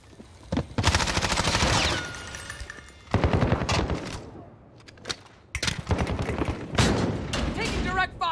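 Sustained automatic gunfire in the Modern Warfare 2019 video game, heavy bursts of rapid shots in long runs with short gaps, loud and close, while game voice callouts speak over the shooting.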